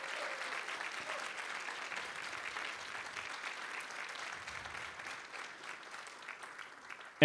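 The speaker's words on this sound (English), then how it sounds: "If I can have a round of applause for all the many incredible stuff they do." A round of applause from the audience at a university academic affairs fall meeting, steady and fairly distant, lasting several seconds with no speech over it.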